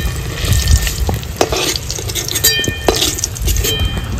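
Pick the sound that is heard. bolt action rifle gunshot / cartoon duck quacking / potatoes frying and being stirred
potatoes frying and being stirred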